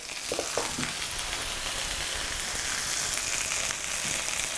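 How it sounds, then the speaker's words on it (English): Turkey sears in a hot pan with a dense, steady sizzle and crackle, moderately close, broken by a few faint clinks near the start. "I want to get that sear on the bottom"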